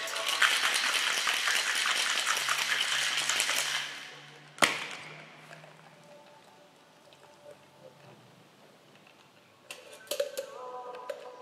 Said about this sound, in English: take your shaker and give it a nice vigorous shake.